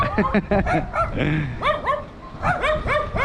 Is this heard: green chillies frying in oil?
no